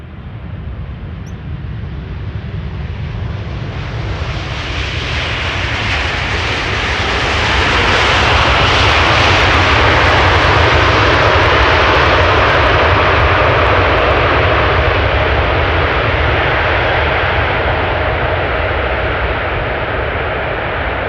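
A Cathay airliner arriving from Paris lands at Amsterdam Schiphol, its loud broadband jet roar swelling as it passes close and then holding steady under the rush of the rollout.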